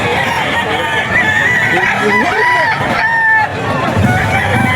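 A Sweater Gilmore gamefowl rooster crows loudly and close by, its drawn-out wavering call rising and falling over a busy yard with background chatter and other birds.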